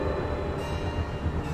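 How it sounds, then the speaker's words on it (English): A moving train from the video game Alice Madness Returns gives a dense, continuous rumble and rattle of rolling wagons, loud and steady throughout with no voices over it. "My Lizzie, what is this train's destination?"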